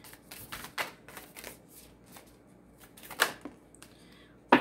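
Moonology oracle cards being shuffled by hand, a run of quick papery riffles and flicks up close, with a few sharper snaps and taps near the end and no talking.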